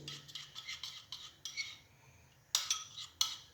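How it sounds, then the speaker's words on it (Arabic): A spoon stirs a coffee-grounds body scrub in a bowl, making soft gritty scraping strokes in an irregular rhythm, punctuated by a couple of sharper clinks of the spoon against the bowl; quiet and close, with no talking. "ونخلط المكونات كلها مع بعضها"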